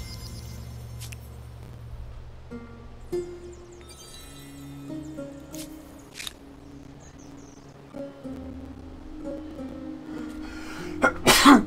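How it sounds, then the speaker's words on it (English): A single sharp sneeze bursts out near the end after a long stretch of quiet room tone with soft scattered background tones, close and loud. "I sneezed"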